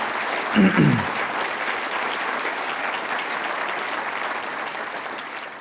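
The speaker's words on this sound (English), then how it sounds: "So I want a special round of applause for all the first responders" An audience applauds the first responders of Hurricane Harvey at a county event. Dense, sustained clapping runs throughout, with a brief low thump near the start, then fades slightly toward the end.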